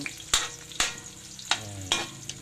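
Stirring ginataan of banana blossom, papaya and malunggay in a frying pan: four or five distinct scraping strokes spaced about half a second apart over a soft, steady sizzle.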